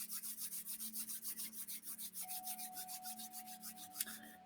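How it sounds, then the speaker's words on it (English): Hands rubbing together in a steady, rhythmic back-and-forth of soft, close rasping strokes during a quiet meditation, with a faint tone in the background and no one talking. "And then rub your hands together."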